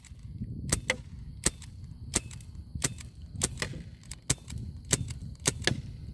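CO2-powered 1911 air pistol fired repeatedly outdoors, about a dozen sharp snapping shots at an irregular quick pace, close and distinct over faint background noise.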